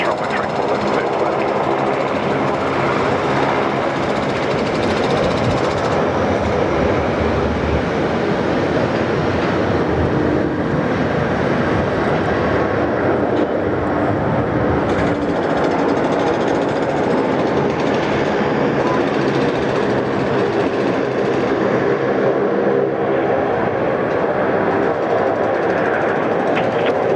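A Delta jet bound for Los Angeles takes off from runway 34 left at Sydney Airport, producing a loud, continuous engine roar that swells and holds for the whole stretch, with voices underneath.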